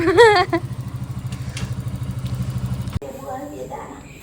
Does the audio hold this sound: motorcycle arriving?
yes